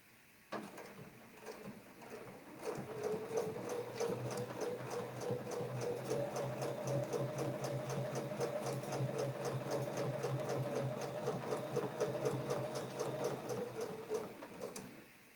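A sewing machine stitches a maple leaf template in a fast, even run of mechanical needle clicks and motor hum, starting after a short pause and continuing close and steady for most of the stretch before stopping near the end.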